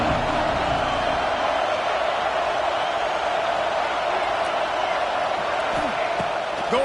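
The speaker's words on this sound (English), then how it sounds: "This crowd ready to make its presence known." A football stadium crowd at a Canes vs UM game roars in a loud, constant wash of cheering and noise throughout, with no clear break.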